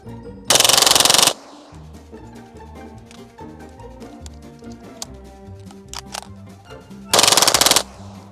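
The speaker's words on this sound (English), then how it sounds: "So I'm gonna run through these last 2 mags, call it a day." A Kriss Vector fitted with a forced reset trigger fires two fast, loud bursts, each about a second long, separated by a stretch of clicking and handling noise between the strings.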